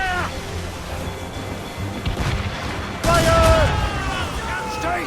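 Ship cannons fire during a naval battle in the game Assassin's Creed Rogue, with booming volleys that swell sharply partway through, mixed under shouting voices and battle noise.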